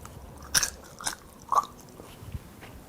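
Crisp bites and crunches of crunchy fried ramen-coated potatoes come in a few separate bursts close to the microphone, with quiet pauses between them.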